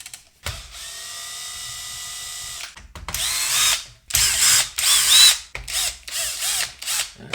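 Power screwdriver driving out screws during disassembly of a Bang & Olufsen Beomaster 3500 receiver. A steady whirring run is followed by several short bursts of whining drive with brief pauses between, close and clear.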